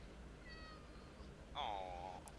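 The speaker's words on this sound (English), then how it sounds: "Aw, it's a cat." Two meows from a cat, a short one followed by a longer, louder drawn-out call, heard faintly indoors with some speech around them.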